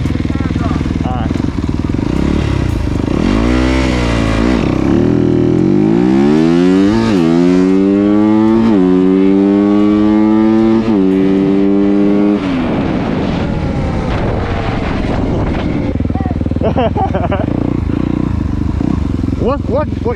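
A 72V Sur Ron electric bike races a Yamaha YZ250FX dirt bike, the four-stroke engine screaming up through several gear changes in rising and falling sweeps, loud and close, then fading as it pulls away.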